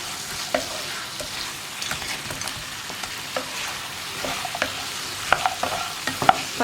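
Fried paneer being stirred into chilli sauce in a pan, with soft scraping and stirring noises, a faint sizzle underneath and a few brief sharp clinks of the spoon against the pan.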